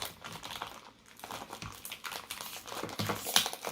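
A plastic baggie of toy pieces from a Lightyear XL-15 spaceship playset crinkles and rustles continuously up close. The crackling builds toward a sharper crunch near the end.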